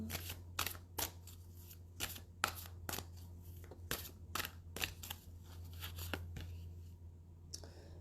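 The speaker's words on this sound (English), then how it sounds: "I'm going to shuffle again." Quick bursts of cards being shuffled, riffled and snapped, a dozen or so sharp crackles in uneven rhythm over a steady low hum, close to the microphone.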